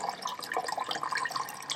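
Kefir water drains through a small ceramic strainer, a faint, soft trickle with light splashes and drips running continuously.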